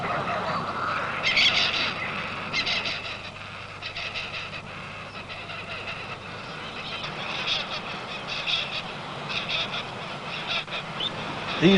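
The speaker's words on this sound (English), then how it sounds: "These birds build their nests on the ground" Seabirds call across an island nesting ground in a series of harsh squawking bursts over a steady, hissy outdoor background, with no talking.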